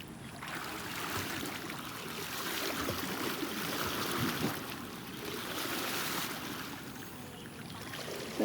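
River water flowing past a village in Cenrana, a steady low rushing and trickling wash that stays soft and continuous throughout, with no voices over it.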